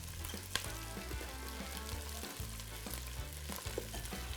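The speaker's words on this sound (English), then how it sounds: "We're just gonna add our onions and garlics first. Let it simmer for a little bit." Onions and garlic fry in a pot with a constant soft sizzle and crackle, broken by occasional stirring scrapes and low knocks, quiet and close with no speech.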